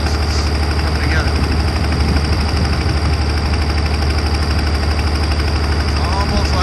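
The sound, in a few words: M35A2 multifuel truck engine misfiring exhaust pulses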